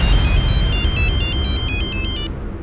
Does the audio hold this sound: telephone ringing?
yes